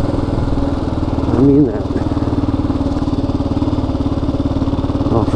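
A 2016 Kawasaki KLR 650 single-cylinder engine runs steadily nearby with a loud, even thrum that briefly swells in the middle, while someone talks over it.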